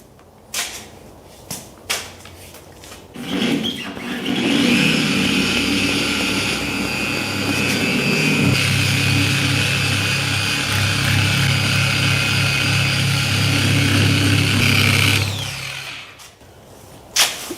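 A power buffer spreads rubbing compound over car paint, first brief bumps and clicks, then a loud sustained motor whine with a low hum for about eleven seconds before it winds down and stops.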